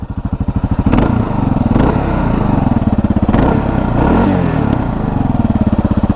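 A Kawasaki KLR650 single-cylinder motorcycle engine idles in neutral close by, a steady loud thumping putter with an even rapid pulse and slight rises in revs, no talking.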